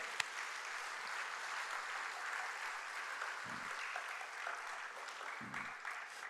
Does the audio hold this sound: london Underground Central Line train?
no